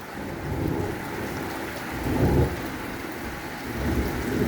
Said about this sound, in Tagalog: Kunting ulan yan.